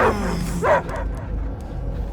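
Dog barking in the Guardians of the Galaxy video game, a few short yips and barks near the start over a low game ambience, with a brief louder bark-like burst mid-clip.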